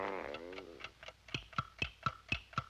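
An alarm clock in a bedroom ticks in a steady, sharp rhythm, about two ticks a second, following a brief fading tonal sound at the start.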